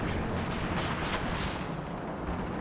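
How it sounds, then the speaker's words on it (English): Stuka dive bomber barrage in Company of Heroes 2, a dense, sustained roar of explosions and rumbling blasts that fills the whole stretch with no pause, loud and close, with no voices. "Stuka barrage moderately targeted."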